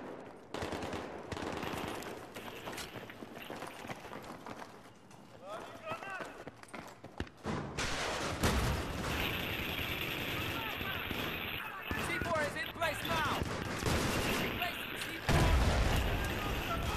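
Video game battle with rapid gunfire and mortar, bursts of shots and heavy impacts grow louder and denser over time, mixed with game sound and a player talking throughout.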